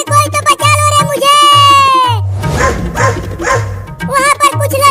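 A dog barks and yips in a short Hindi comedy sketch, a few loud, close bursts over background music, with voices around it.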